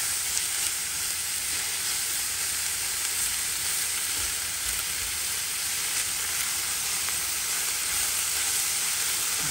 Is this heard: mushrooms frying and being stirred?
yes